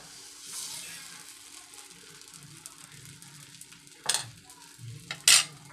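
Soft sizzling of uttapam batter on a hot griddle, quiet and steady, broken by a couple of sharp clinks of metal near the end.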